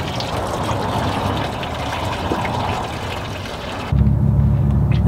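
Engine coolant pours from a hose of a 1999 Chevy 4.3 V6 into a drain pan, a steady close splashing stream that shifts to a deeper, heavier gurgle near the end.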